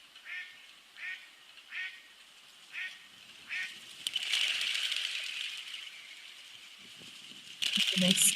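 Ducks at a pond quacking in a series of short evenly spaced calls, then a sudden broad flurry of wing beats and splashing as the birds scatter, with a louder burst at the end.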